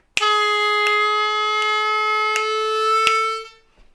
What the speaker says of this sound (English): the 4-draw bend and the slow release